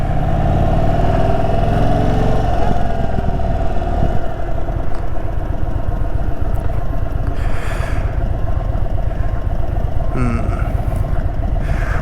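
Engine of an Indian Super Chief motorcycle running steadily with a low rumbling throb throughout, under constant wind and road noise while riding; a voice is heard faintly at times.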